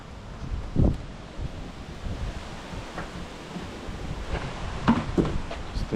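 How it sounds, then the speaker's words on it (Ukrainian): Strong wind roars steadily across an open microphone, with gusty buffeting thumps and rumbling low noise throughout; no voices. "Ох и вітер сегодня."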